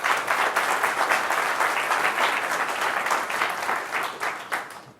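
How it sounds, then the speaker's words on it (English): An audience at an automotive cybersecurity talk breaks into applause, a close, dense burst of clapping that holds steady and then fades out. "So let's give a round of applause to GM"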